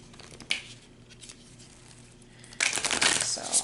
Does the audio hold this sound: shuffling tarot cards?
yes